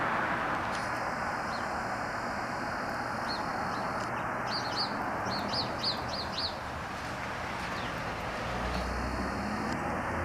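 A dark-eyed junco calls outdoors on a spring morning, giving a thin sustained trill and a quick run of bright chirps over a steady hiss of background noise, with the trill returning near the end.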